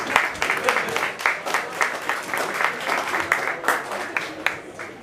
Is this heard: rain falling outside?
no